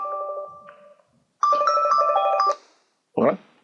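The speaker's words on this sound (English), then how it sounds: "My phone is ringing." A mobile phone rings nearby with a loud, bright electronic ringtone of repeating melodic beeps in two bursts, followed by a brief rustle.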